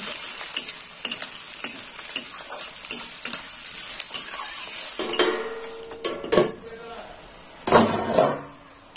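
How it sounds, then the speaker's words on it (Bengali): Onions frying in a pan until reddish-brown, with constant sizzling broken by rhythmic scrapes and clinks of a utensil stirring against metal, loudest in short bursts near the end. "পেঁয়াজটা আমি লাল করে ভেজে নেব।"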